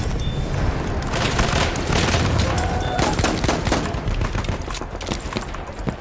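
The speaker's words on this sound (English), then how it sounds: "This weapon is a 2-round burst." Dense, loud gunfire in Battlefield 1 from a two-round burst weapon, layered with explosions and other battlefield shooting in a continuous barrage.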